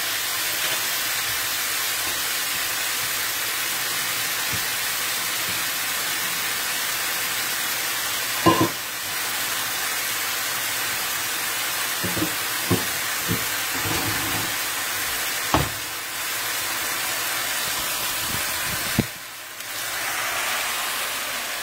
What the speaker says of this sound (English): Let me drain this pasta.